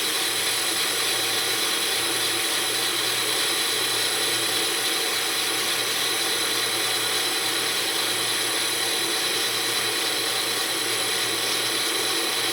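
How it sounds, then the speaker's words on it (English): A steady, continuous machining whine from a lathe finishing pass on the boss of a 5-inch gauge steam locomotive tender wheel runs evenly throughout, with a high tonal hum and no pauses. "This is the finishing pass on the boss."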